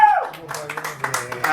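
An audience at a book talk in a bar venue gives scattered, brief applause, a few loose claps and taps rising just after a voice speaks at the start.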